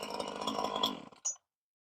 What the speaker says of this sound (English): The new chainsaw worked fabulous.